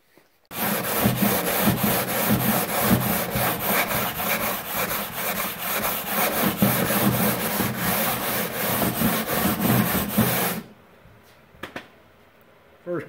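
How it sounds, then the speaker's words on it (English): Continuous abrasive sanding on a carbon fiber car lip part, with steady rhythmic scraping strokes that run loud and close for about ten seconds and then stop, followed by a few faint handling knocks. "First carbon fiber I've ever sanded. Seems to sand better than fiberglass."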